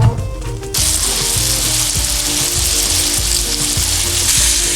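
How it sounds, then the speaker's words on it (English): Steady, loud sizzling and crackling of a grouper fillet frying in a hot skillet, starting abruptly after a brief quieter moment and continuing without pause. "I want to hear a little sizzle."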